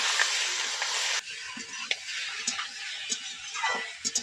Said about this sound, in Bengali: এখন দিয়ে দিচ্ছি কড়ার মধ্যে মাংসগুলো